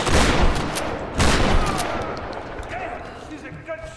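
Lara fires her gun in the Tomb Raider video game, a few sharp, loud gunshot bursts near the start that fade into quieter game sounds, with people talking alongside.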